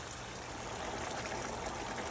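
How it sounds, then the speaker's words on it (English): Water is poured into simmering ground beef for Frito pie, a soft steady stream of splashing liquid mixing with a gentle sizzle, faint and continuous for about two seconds. "Adding probably about a third cup of water to a half a cup."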